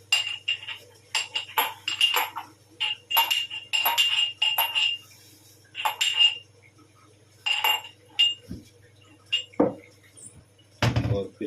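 Crushed ginger mixed into a mixture in a kitchen dish: sharp metallic clinks and scrapes of a spoon against the dish come in irregular bursts, close and fairly loud, with a low hum underneath.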